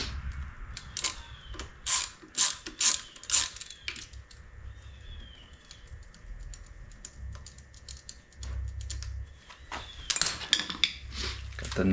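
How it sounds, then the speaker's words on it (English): A ratchet wrench clicks rapidly while loosening an 8 mm nut under the clutch lever of a 2021 Benelli motorcycle, in close bursts of ratcheting with quieter handling and rustling between. "Got the nut off"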